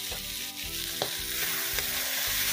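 Chopped tomatoes fry in a pan, a moderate continuous sizzle with occasional light stirring taps, no speech.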